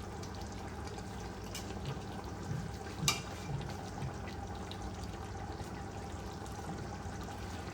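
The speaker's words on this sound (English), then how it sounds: "I'm adding 2 liters of water" Two liters of water pour steadily into a pot of mutton and rice for biryani, a continuous soft rushing splash with a faint bubbling undertone and one brief louder clatter near the middle.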